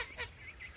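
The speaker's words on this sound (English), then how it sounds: "There goes a goose over there." A goose gives a short honk outdoors at moderate distance, a brief nasal call over faint background noise with no talking.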